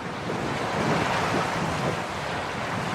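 Strong wind around 20 knots and breaking waves while sailing a boat in Greece, a constant loud rush of wind noise and surf with no voices.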